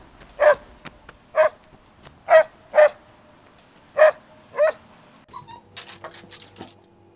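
A single dog barks six times in spaced bursts, fairly close and clear, followed by a brief rustling and clatter at the end.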